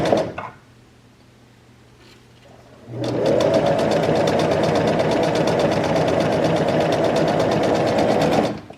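A sewing machine stitches along the edge of folded fabric, running steadily and loudly for about six seconds with a fast, even mechanical rattle after a quiet pause.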